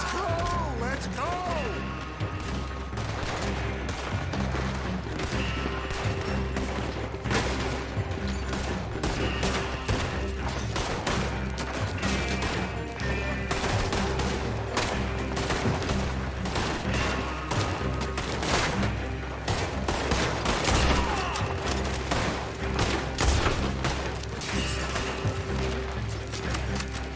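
Dense, continuous gunfire fills a Red Dead Redemption 2 shootout, with overlapping shots, crashes and mechanical clatter sustained loudly throughout and voices mixed in.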